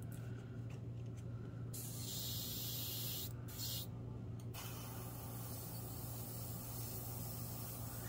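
Airbrush spraying nail polish through a stencil for nail art, a close steady airy hiss that runs in bursts with brief pauses, over a low constant hum of the compressor.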